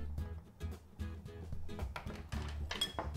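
Spoon clinks and scrapes against a bowl while pumpkin pie spice is stirred into pumpkin pie filling, a busy run of close, irregular taps and rattles over a low background hum.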